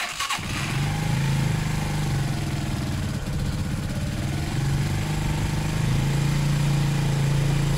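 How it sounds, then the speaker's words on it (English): A Zontes 125 motorcycle engine cranks and catches with a quick burst, then settles into a steady, close, loud idle putter with a slight waver in pitch, and no voices. "let's see if the bike even starts and warms up now."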